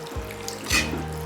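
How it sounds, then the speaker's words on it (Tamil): Rice-washing water poured over chicken in a pot for a village-style chicken curry, heard as a steady close stream of running water with a brief splashy surge midway, alone without talk. "நல்லா முங்குற அளவுக்கு தண்ணி ஊற்றிக்கோங்க."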